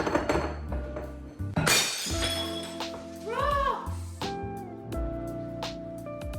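A glass bowl breaking in a home kitchen, with a sharp crash of shattering glass and tinkling fragments amid clattering dishes and background noise.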